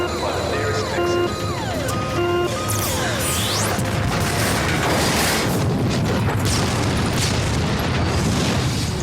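A loud explosion rocks a Western setting, with sustained booming, crashing rumble and debris noise filling the whole stretch, mixed with other tones and a faint voice.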